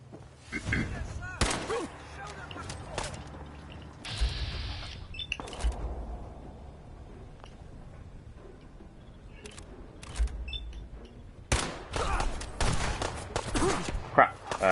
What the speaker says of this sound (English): Oh dear, grenades and everything.